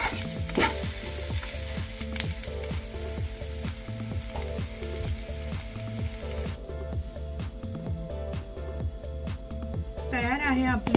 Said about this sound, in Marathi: अशा प्रकारे 1-2 मिनिट भर हे मिश्रण भाजून घ्यायचे। लसूण थोडा भाजला